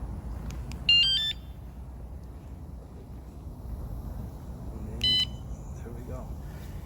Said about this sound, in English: don't forget about the alarm system that I got on this one